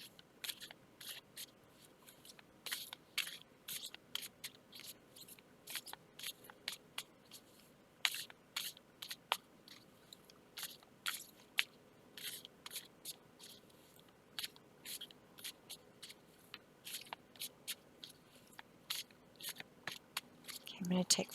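A deck of cards is shuffled by hand in a quiet room, giving faint, irregular papery flicks and snaps in scattered bursts over a soft background.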